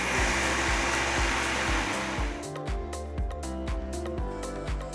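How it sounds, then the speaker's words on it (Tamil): A mixer grinder whirs loudly, first as a smooth high whine, then shifting into a rhythmic churning pulse as the blades grind soaked rice with a little water into a thick, smooth batter. "கொஞ்சம் தண்ணி ஊற்றி நல்லா ஸ்மூத்தான மாவாக அரைச்சி எடுத்துக்கலாம்"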